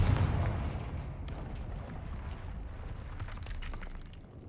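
A Confringo blasting spell in Hogwarts Legacy bursts with a loud rumbling boom that slowly decays, followed by crackling debris and scattered bright impact sounds over a steady low roar.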